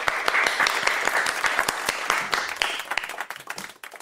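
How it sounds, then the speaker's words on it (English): An audience claps steadily, a dense wash of applause with sharp individual claps, gradually thinning out and fading toward the end. "please start clapping now for Suzanne Krull."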